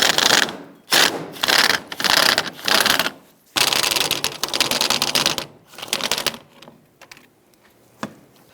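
A ratchet wrench loosens the trailer hitch receiver bolt on a 1999-2004 Jeep Grand Cherokee, giving several loud bursts of rapid ratcheting clicks separated by brief pauses, then fading to a few scattered softer clicks.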